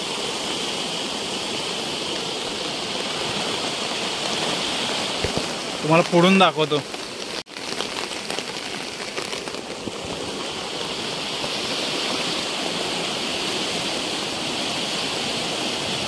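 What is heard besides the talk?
flooded river flowing after heavy rain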